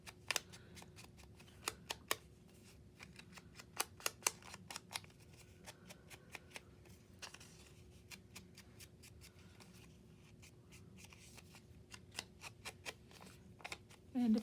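Scissors trim paper for a small craft cluster, giving sharp, irregular snips in quick bursts and scattered single cuts over a quiet room, with faint rustling between them.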